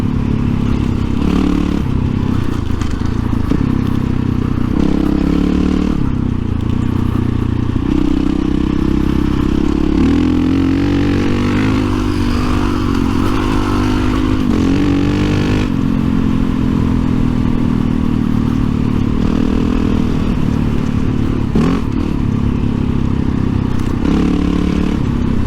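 Suzuki V-Strom 650 motorcycle riding off-road, its engine droning loud and steady throughout with rough clattering and scraping from the rocky ground.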